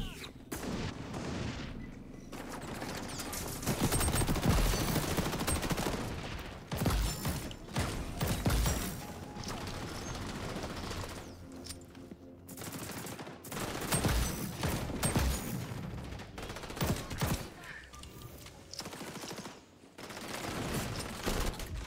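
Desert Eagle pistol and revolver fire in the XDefiant shooter game, layered with other weapons into dense, continuous gunfire and booming shots that swell and dip throughout, with players' voices talking over the combat.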